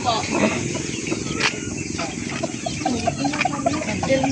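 Chickens cluck repeatedly nearby, a busy overlapping chorus of short calls, with people talking underneath.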